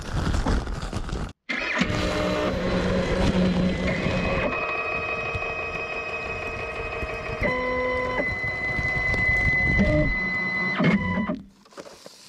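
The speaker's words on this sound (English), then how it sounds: "It's a machine that you do your business into, and it neatly seals it into a polyethylene bag." A Wrappon Trekker WT-4 machine sealing waste into a polyethylene bag runs with a loud, steady mechanical whir and shifting motor tones for about ten seconds, close up, after a brief pause near the start, then stops.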